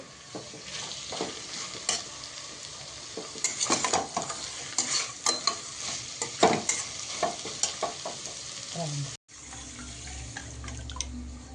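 Vegetables sizzle in a hot pan for veg biryani while a utensil stirs and scrapes in irregular bursts, then the sound cuts to a quieter hum.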